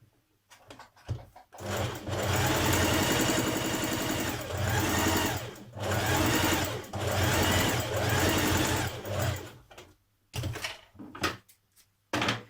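A sewing machine stitches an ease line along the top of a sleeve for a New Look 6086 top. It runs in two long, loud, steady whirring bursts, then a few short stop-start runs with clicks between them.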